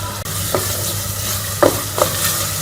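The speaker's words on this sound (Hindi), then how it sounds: "तो हम 3 से 4 मिनट मसालों को अच्छी तरह से भून लेंगे।" Spice masala stir-fried in a pan for a chickpea and chicken curry, a steady soft sizzle with a few brief scraping stirs of the spoon, close and fairly quiet.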